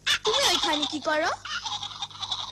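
Chickens in an animated cartoon cluck and squawk loudly and close, in a quick burst of rising and falling calls followed by softer, fluttering clucks.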